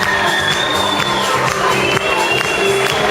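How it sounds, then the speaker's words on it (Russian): Audience applause and cheering at an award ceremony, a loud crowd clapping steadily and close for a few seconds, with tonal music or voices running underneath. "Аплодисменты."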